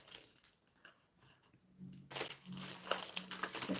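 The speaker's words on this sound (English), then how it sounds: "Zip bag." A plastic zip bag crinkles while being handled at a craft table, faint at first, then bursting into loud, close rustling and crackling.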